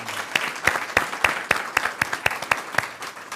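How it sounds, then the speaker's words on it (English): A small audience at a college speaker event claps, sparse and distinct individual claps sounding in an irregular rhythm, fairly quiet and with few hands. "And let's give Vilma another round of applause, please."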